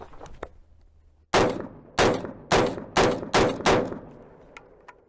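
Shots from a PSA AR10 rifle: six loud, sharp reports fired at a steady, unhurried pace outdoors, each with a short echoing tail, preceded by faint clicks and handling noise.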